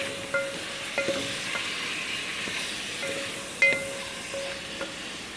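Chicken frying in a pan with browned ginger and garlic, a steady sizzle with several sharp stirring clicks and scrapes, fairly close and alone without talk.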